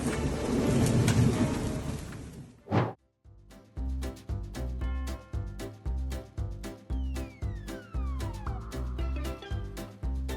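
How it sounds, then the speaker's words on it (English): A roaring wash of heavy rain and thunder fills the first seconds, then a yowling cry and steady rhythmic music take over. "lightning struck just after they made it indoors"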